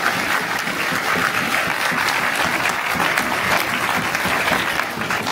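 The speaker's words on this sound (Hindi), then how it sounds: "तो उसके लिए एक बार शानदार और जोर से तालियां बजाइए" Loud, sustained applause from a large crowd at an education seminar in Sirsa, a dense wash of clapping that continues steadily throughout.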